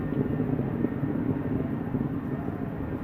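A ULA Atlas V rocket's engine burns during ascent with solid rocket boosters, producing a continuous, heavy low roar and rumble that holds steady without pause.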